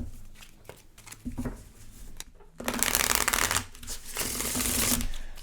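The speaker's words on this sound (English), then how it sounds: "let's go ahead and pull the last row of oracle cards here" Oracle cards shuffled and drawn during a pick-a-card love reading: close, papery riffling and sliding in several bursts, loudest in a long continuous shuffle toward the end, with no talking.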